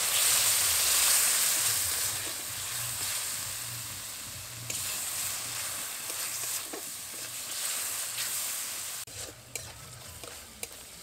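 Spices with salt, turmeric powder, Kashmiri chili powder and sugar fry in oil in a pan for a raw prawn curry. A steady sizzle sounds under frequent stirring scrapes and clicks, and the frying loudness gradually fades.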